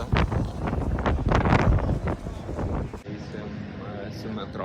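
Wind buffets the microphone outdoors in Athens, a loud rumbling gusty roar under a brief spoken comment, easing into softer blowing after a sudden drop.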